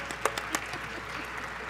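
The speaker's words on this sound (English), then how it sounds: "Let's give our panelists one more round of applause." Audience applauding panelists at a women's automotive event, a short burst of clapping from a seated crowd, fairly faint and brief.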